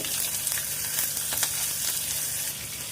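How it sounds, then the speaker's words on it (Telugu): Tempering of mustard seeds, black gram, cumin, dried red chilies, asafoetida and green chilies frying in hot oil for dal, a close, even sizzle with light crackles and popping seeds throughout. "క్రష్ చేసి పెట్టుకున్న వెల్లుల్లి అలాగే కరివేపాకు వేసేసి వీటన్నిటిని బాగా ఫ్రై చేసుకోవాలి"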